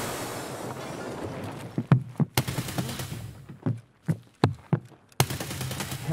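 Gunfire in Escape from Tarkov comes as a series of sharp, close shots, a few spaced single cracks and short bursts over a windy, noisy background, with no talking.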